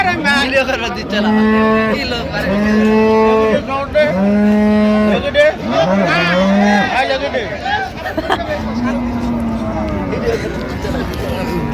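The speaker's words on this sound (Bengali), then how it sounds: "এখানে একটি গাভী বাছুর দেখছেন, আর রহিম ভাই" A cow and calf low repeatedly at the Raniganj weekly cattle market in Dinajpur. The close, loud, drawn-out moos come in quick succession over a busy background of crowd chatter and voices.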